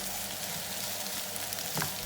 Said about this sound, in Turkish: Kabakları ilave ediyoruz. Şöyle bir karıştırıyoruz.